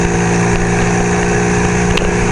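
Steady engine drone from a motorcycle cruising south along Stone Avenue in Tucson, Arizona, loud and continuous with wind noise and no noticeable changes in pitch.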